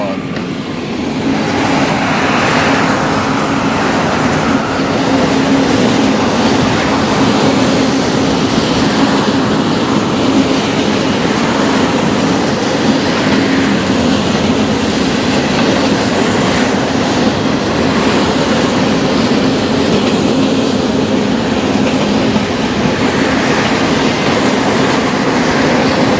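A very long freight train of about 200 cars rolls past, loud and close, with a constant rumble and wheel clatter that holds steady for the whole stretch.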